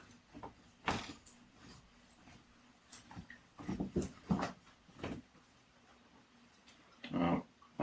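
A dog moves around a quiet room, giving faint scattered thumps, shuffles and soft paw sounds at irregular moments, with a louder burst near the end and no talking.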